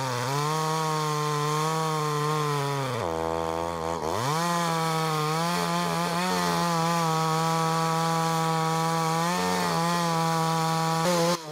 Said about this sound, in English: the tree cutter continues to use the chainsaw to cut a circle on the side opposite the open